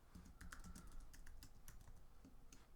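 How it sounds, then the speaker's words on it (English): Quiet rapid typing on a computer keyboard, a run of soft clicking keystrokes in an irregular rhythm over a low background hum, close and faint. "I am going to type welcome"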